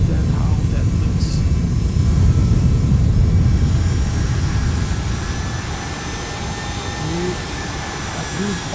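An airliner touching down on a runway in X-Plane 11: a continuous loud, low engine and rolling rumble that eases slightly toward the end, with a voice talking over it.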